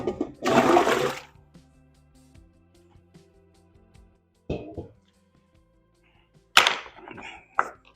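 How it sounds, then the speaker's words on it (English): Carrots rinsed under running water from a kitchen tap, a loud rushing burst near the start, then quieter clunks and a second splashing burst near the end, heard close with no talking. "we're gonna rinse off our carrots"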